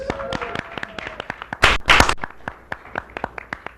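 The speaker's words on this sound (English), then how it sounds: "Can we clap now?" A small audience claps after a falling-up object trick at a lunchtime comedy show, with scattered individual claps throughout and a brief louder burst in the middle, under light talk.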